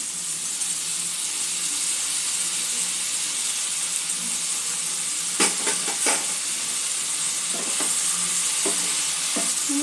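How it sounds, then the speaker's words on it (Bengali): Spiny gourd stir-frying in a pan with ginger paste and spices, giving a steady loud sizzle and hiss throughout, with a few scraping stirs of a spatula cutting in midway. "সমস্ত মশলা দিয়ে কাঁকরোলটা কিছুক্ষণ একটু কষে নেব।"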